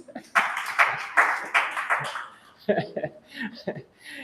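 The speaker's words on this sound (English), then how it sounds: "Let's clap for the men, guys." An audience bursts into brisk, loud clapping for about two seconds, then it dies away into scattered laughter and talking voices.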